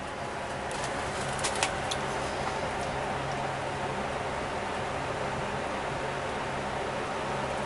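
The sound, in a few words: small bird cooing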